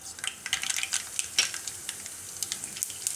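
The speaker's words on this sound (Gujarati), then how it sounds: "એમાં આપણે પહેલાં રાઈ નાખીશું" Mustard seeds sputter and pop in hot oil, a dense run of sharp crackles with scattered louder snaps, close and fairly quiet, with no voices.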